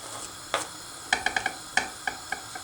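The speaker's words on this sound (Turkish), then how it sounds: "Evet sucukla biberlerimizi kavuruyoruz öncelikle" Sausage and peppers sizzling in a hot pan with a spatula scraping and clicking against it in quick irregular taps, close up with no talking.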